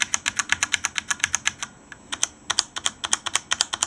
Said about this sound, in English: there is that more high-pitched click which is removed with the O-ring